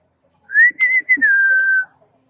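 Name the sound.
person whistling to call a rhino at zoo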